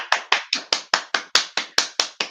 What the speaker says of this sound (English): Now that deserves a clap, everybody